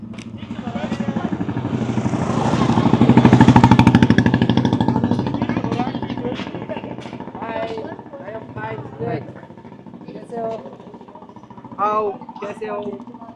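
Motorbike engines rumble and rise as they pass through a narrow street in Rajasthan, swelling to a loud peak then fading, with people's voices talking over the traffic noise.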